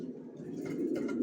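Racer pigeons in a large loft of over a thousand birds coo in low, throaty rolling calls, several overlapping close by and steady, with no speech.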